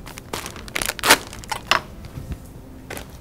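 Scissors cut open a plastic bag of pepper jack cheese, with a few sharp crinkling snips and rustles close by, no talking.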